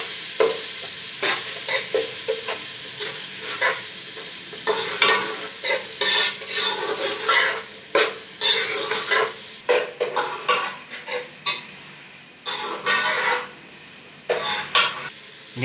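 Spices with salt and red chilli fry in a pan for chana pulao, a steady sizzle broken by repeated scraping and clinking strokes of a spoon stirring against the pot, close and continuous with no talk.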